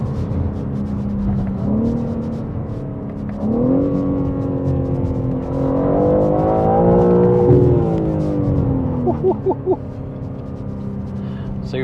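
BMW M3 xDrive pushed hard along twisty country lanes, engine note rising through gears with revs climbing and dropping, several surges and shifts heard from inside the car under occasional talk.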